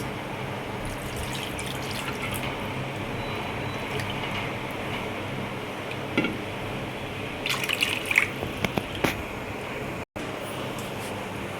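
Steady running water pours into drumstick lentil soup for several seconds, a continuous splashing stream with a few brief clinks, ending in a short break near the finish.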